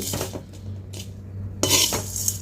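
Roasted chana dal, urad dal and fenugreek seeds tipped from a pan into a mixer jar for mint chutney, giving close metallic scraping and clinks in two bursts over a low steady hum.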